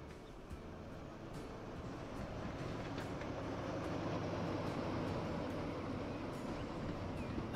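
A train in the Transport Fever 2 video game rolls steadily into a station platform, a continuous low rumble with faint periodic clicks of wheels over rail joints that grows slightly louder as it nears.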